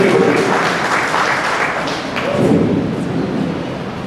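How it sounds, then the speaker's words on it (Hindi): Loud, dense audience applause welcoming a performer at an All India Mushayra poetry gathering, a continuous roar of clapping with murmured voices beneath. "शानदार तालियों से स्वागत कीजिए"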